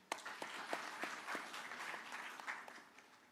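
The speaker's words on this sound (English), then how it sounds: "Clap for them." An audience at a university innovation and exhibition week awards session applauds runners-up, a fairly faint, steady patter of many hands clapping for a few seconds.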